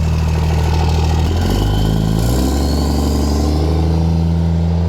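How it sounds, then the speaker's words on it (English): A large Cummins diesel truck engine rumbles loudly nearby, its pitch climbing and falling through a couple of revs before returning to a heavy idle. "You gotta rev that engine"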